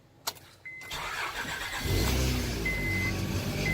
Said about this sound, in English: start this up and let you guys hear and see where the leaks